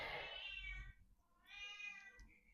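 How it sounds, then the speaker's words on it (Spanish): A pet cat gives two drawn-out, fairly close meows with a short pause between them. The calls are soft, and a faint low rumble sits underneath. "Esa es mi gata, Venus."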